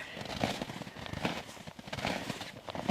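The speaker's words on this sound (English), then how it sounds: "and soft, crunchy snow." Footsteps on soft, crunchy snow in Antarctica, a steady series of close crisp crunches with a crackling texture, fairly quiet and alone.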